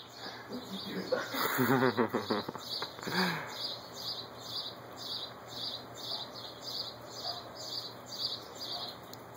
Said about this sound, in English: Listen to all those new birds.